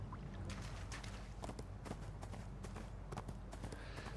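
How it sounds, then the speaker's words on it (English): A donkey mount in the ArcheAge video game runs with quick, faint, irregular hoof clip-clops over a constant low rushing background. "So the donkey is your trade mount."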